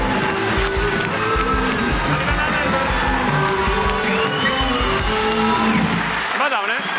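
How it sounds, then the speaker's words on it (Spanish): A studio audience on the Spanish talk show La Revuelta claps and cheers for Dani Fernández, with loud, dense, continuous applause and whoops mixed with voices through the whole stretch. "un aplauso para Dani Fernández en La Revuelta"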